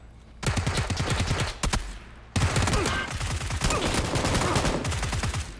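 Enemy gunfire rattles in PUBG: rapid bursts of automatic shots crackle in fast rhythmic volleys, a brief pause, then sustained loud firing continuing to the end with no talking.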